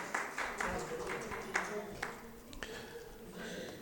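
Audience applause for the poet Laxmi Shankar Vajpeyi at a poetry recital at Ipex Bhawan, a broad steady patter of clapping from a crowd with a few sharper claps standing out, heard in a hall with no speech over it.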